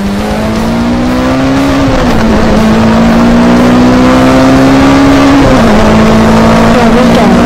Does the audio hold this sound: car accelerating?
yes